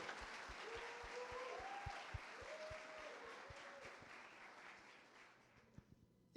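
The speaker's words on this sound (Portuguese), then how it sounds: "Uma salva de palmas para o André." An audience applauds for André at a Família Gauss celebration, a steady wash of clapping at moderate level that tapers off toward the end, with no voices over it.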